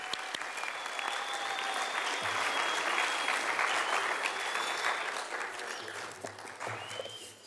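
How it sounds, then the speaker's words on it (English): An audience at a 4-H sewing and fashion contest applauds the participants with sustained, even clapping that holds steady and then slowly fades toward the end. Faint talk may sit beneath the clapping. "Let's give all of these participants another round of applause."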